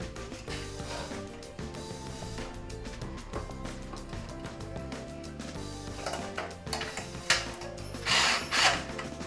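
A power tool running anchor bolts on a Toyota Camry Hybrid battery rebuild, 2011 to 2016 model, a close continuous whirring and rattling hum with ratcheting clicks, rising in a couple of louder bursts near the end.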